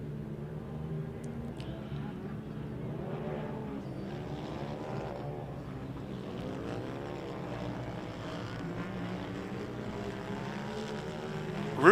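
Polaris and Can-Am production turbo UTVs race on a dirt short course at a fairground, a continuous engine drone rising and falling as the machines pass, heard from a moderate distance.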